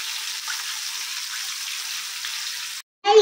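Chicken frying in hot oil for crispy fried chicken, a steady close hiss of sizzling that runs unbroken, cuts to a brief silence, then returns loud at the end.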